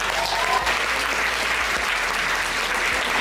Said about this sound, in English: Give a big round of applause for Dahlia and Lidu.